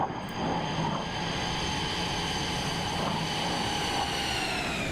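An F-35B fighter jet in Microsoft Flight Simulator 2024 touches down: a steady, loud engine roar with high whining tones runs unbroken throughout, with no voices.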